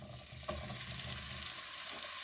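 Smoked sausage frying in vegetable oil in a large pan, a steady close sizzle with a brief clatter of stirring near the start, no voices.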